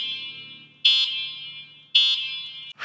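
Horn on a Qiolor Tiger e-bike built in 1950s motorcycle style, giving two loud, shrill electronic toots about a second apart, each a steady high buzz that cuts off abruptly, heard up close and outdoors.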